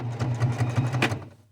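A sewing machine runs a straight stitch with a fast, even mechanical whir and needle patter, close and steady before tapering off.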